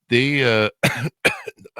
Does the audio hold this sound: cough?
yes